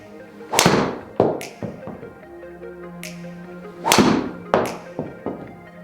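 A TaylorMade M6 golf driver strikes golf balls outdoors. Two loud, sharp cracks land a few seconds apart, each followed by a softer thud and quieter clicks, with faint background noise between the hits.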